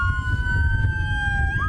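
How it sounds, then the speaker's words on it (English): Ambulance sirens wail steadily as emergency vehicles cross onto U.S. soil, a loud two-tone sweep that holds level and then dips and rises near the end, over low traffic rumble. "Sirens sounding as ambulances cross onto U.S. soil"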